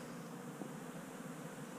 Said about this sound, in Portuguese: Olha quantas espécies de abelhas ela convivem aqui com o espaço, né?